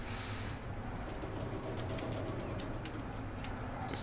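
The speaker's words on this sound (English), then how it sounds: "Just hearing the birds, you know." Birds in the Deus Ex: Mankind Divided game world, faint chirps and cooing scattered over a constant low ambient rumble, distant and soft with no talking.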